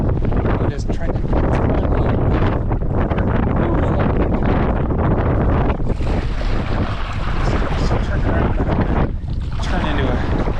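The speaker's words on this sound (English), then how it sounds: "the wind is just really, catch it just right, blows you along." Strong wind buffets the microphone while paddling on the Merrimack River in Lowell, Massachusetts, a loud, continuous rumbling roar with gusting surges and water sloshing throughout.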